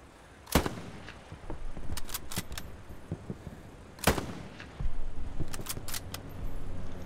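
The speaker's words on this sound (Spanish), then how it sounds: "porque están sonando cañonazos" Artillery cannon fire in the World War II shooter game Hell Let Loose: several heavy booms, some near and some distant, mixed with crackling gunfire over a constant battlefield rumble.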